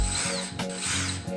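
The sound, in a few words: driving screws into a table saw jig board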